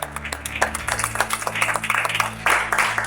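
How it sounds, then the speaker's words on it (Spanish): Church congregation clapping, quick irregular claps from a modest group, close and fairly loud, over a low steady hum. "Denle otro aplauso."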